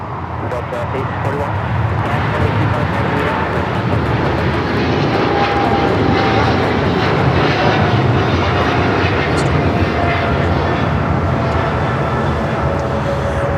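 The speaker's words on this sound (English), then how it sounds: "That is British Airways 282 taking off to London Heathrow on the 777-300ER." British Airways Boeing 777-300ER departing LAX for London Heathrow, a loud sustained engine roar building early and holding strong, with a voice talking over it.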